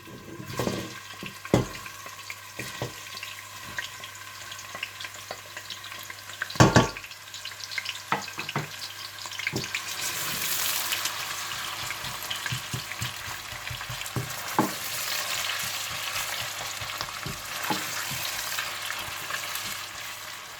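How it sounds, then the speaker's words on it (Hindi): Onions frying in hot desi ghee, a steady close sizzle and crackle that runs throughout, with occasional stirring clatter and one sharp knock. "जब घी गरम हो जाए तो आप इसमें प्याज डालकर गोल्डन ब्राउन कर लीजिए।"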